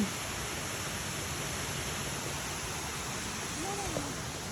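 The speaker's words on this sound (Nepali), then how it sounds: "साँचकोटे जाने बाटोमा झरना छ" A small waterfall beside a footpath makes a steady, even rush of falling water that fills the whole clip. Faint voices can be heard in the background.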